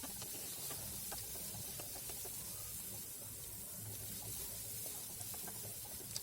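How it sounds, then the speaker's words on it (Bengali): Chopped onions frying in hot oil with cumin and a bay leaf for a mushroom dish, giving a steady, close, even sizzle and hiss throughout with faint clinks, no talking. "পেঁয়াজ কুচিটাকে একটু লাল লাল করে ভেজে নেব"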